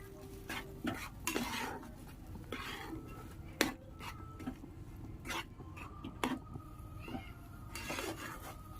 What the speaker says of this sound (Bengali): জিরে গুঁড়ো আর ধনে গুঁড়ো দেওয়ার পর এটাকে ভালোভাবে মিশিয়ে নেব